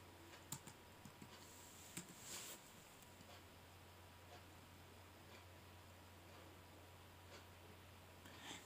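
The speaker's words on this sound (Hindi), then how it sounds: "मैं अपना सी एन आई सी नंबर को टाइप कर लेती हूँ" Keys on a computer keyboard are tapped in a few sparse, faint clicks while an ID number is entered, set against a quiet low hum.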